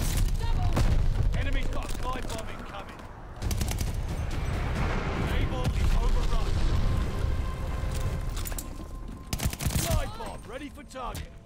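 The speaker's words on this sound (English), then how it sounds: "Enemy's got a glide bomb incoming" A glide bomb explodes amid heavy gunfire in the shooter Call of Duty: Vanguard, with loud booming bursts and rattling shots over continuous battle noise while voices talk.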